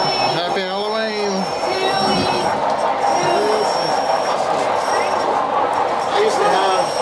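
A train runs along its track in a Halloween display, rumbling steadily with squealing wheels, while people talk nearby over the running sound.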